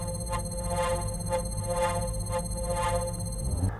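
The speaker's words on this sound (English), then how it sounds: "Noteworthy sounds are shield recharging," A looping electronic tone pulses steadily about twice a second over a low engine drone, the shield recharging sound in the racing game Redout 2.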